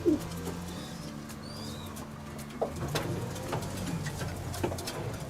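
Pigeons bred for racing, kept in a loft, give soft low cooing in a few short phrases over a steady low hum, with light rustling and patter close by.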